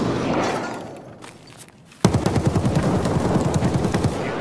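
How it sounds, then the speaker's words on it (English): Bursts of gunfire in the video game Escape From Tarkov: a quieter stretch, then from the midpoint a sudden loud sustained volley of rapid automatic shots, dense and rhythmic, with no talk. "We're shooting."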